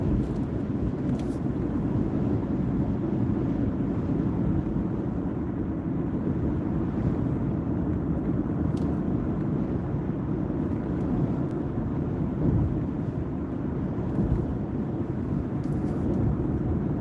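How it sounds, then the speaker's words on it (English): Wind buffets a car driving on a road toward Orkney, a steady loud low roar that fills the whole stretch, with faint brief ticks and rattles on top and no talk. "Wind is certainly picking up."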